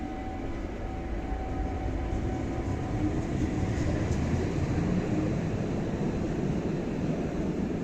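A Stadtbahn light rail train rumbles through an underground station in Düsseldorf, a steady low roar with faint squealing, moderately distant and continuous, with no talking.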